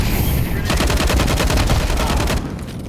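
Rapid automatic gunfire from a video game, a dense burst of shots lasting most of the moment before cutting off, loud and up close.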